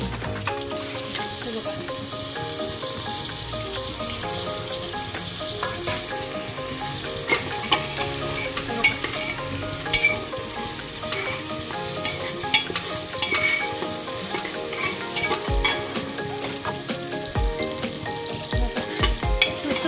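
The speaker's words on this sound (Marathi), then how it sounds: "मस्त फ्राय होतोय।" Dry bombil fish frying in a pan, a steady loud sizzle with crackling oil and occasional scraping stirs, close and continuous throughout.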